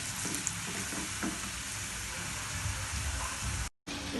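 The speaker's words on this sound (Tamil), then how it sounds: "நம்ம அதை பொரிச்சு எடுத்துடலாம். நல்லா ஃப்ரை ஆகட்டும்." French fries deep-frying in hot oil over a medium flame, a dense, steady crackling sizzle that carries on throughout, broken only by one brief silent gap near the end.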